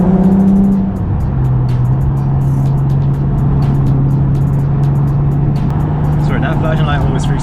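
A Lexus IS 350 with full bolt-on modifications drives along, its engine holding a steady, close humming drone from inside the car, with a brief shift in pitch early on.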